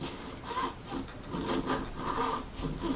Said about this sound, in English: It's pretty much to the edge right here where I'm hitting the wood with my file.